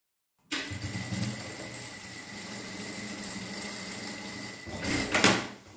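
A sewing machine stitching a seam on a fabric toiletry bag, starting abruptly and running as a steady close mechanical whir with a brief louder burst near the end for the backstitch.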